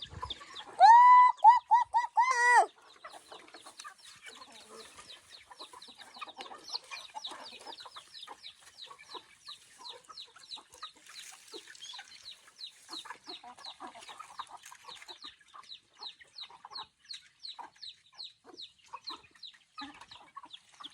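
Chickens cluck in rapid repeated bursts, a loud squawking outburst at first, then steady softer clucking continuing throughout at moderate distance, on a rural farm field at feeding time.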